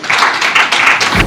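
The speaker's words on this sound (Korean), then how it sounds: "여러분 박수 부탁드립니다" A seminar audience at a semiconductor industry forum applauds a presenter, a brief burst of dense, close clapping that holds steady before cutting off.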